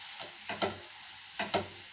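Grated coconut being sautéed in a pan hisses faintly while a spoon scrapes through it in two quick pairs of stirring strokes, close and quiet, with no voices.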